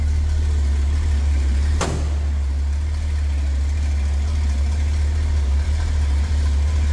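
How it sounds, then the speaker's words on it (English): A car engine idles with a steady, deep exhaust rumble, and a brief sharp click or squeak cuts through early on. "Nothing crazy over the top as far as exhaust."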